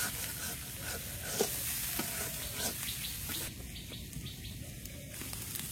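Vegetable bhaji frying and being stirred in a pan over a strong flame in a home kitchen, a steady close sizzle broken by scraping stir strokes, continuous and alone.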